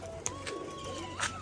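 A Rajshahi pigeon coos briefly and softly at a distance, the low murmur rising twice over a quiet, steady room hum.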